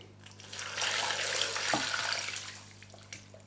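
Extra water poured into a pot of beef stew with meat and onion for Scouse: a steady, soft, close rush of pouring liquid lasting a few seconds with a brief clink, no voices.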